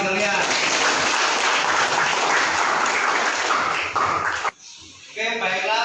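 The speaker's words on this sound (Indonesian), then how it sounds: "Tepuk tangan buat kalian." Group applause in a classroom after students agree on eight class rules, dense clapping for about four and a half seconds that stops abruptly, followed by a voice speaking.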